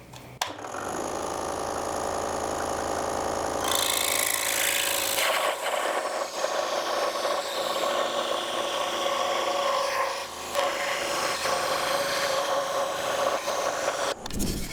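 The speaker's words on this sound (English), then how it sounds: "on a scroll saw, I leave the line, and whatever my scrap side is, the blade stays just on the inside" Scroll saw cutting wood pieces for a hat holder, a steady buzzing, rapidly reciprocating blade hum that rises in intensity as it bites into the wood, loud and close for most of its length before stopping abruptly.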